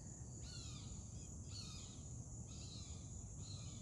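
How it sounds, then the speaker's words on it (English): Several high, piercing whistled calls of a hawk, repeating about once a second over steady outdoor background noise. "That piercing whistle kind of thing. That's a hawk."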